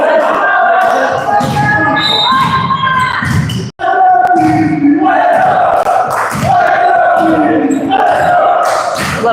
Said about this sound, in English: A little bit of cheering from the boys right now.